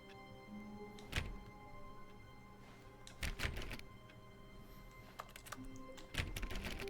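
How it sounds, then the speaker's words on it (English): Keyboard typing sound effect in the video game The Stanley Parable: Ultra Deluxe, a few sparse, loud clacks and thunks spaced seconds apart over a steady low hum, with no talking. "It's a keyboard sound every time."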